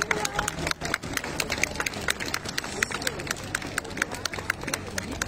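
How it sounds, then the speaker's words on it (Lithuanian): Audience applauding at a live stage show in Klaipėda, Lithuania: dense, steady clapping with crowd noise throughout, loud and close. "Taigi dar kartelį griausmingi publikos aplodismentai"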